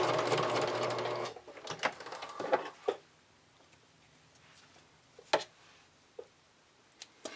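A sewing machine bastes elastic onto a fabric bra extender in a fast, whirring run of stitches lasting just over a second. Scattered clicks and light ticks follow as the work is handled, and no one speaks.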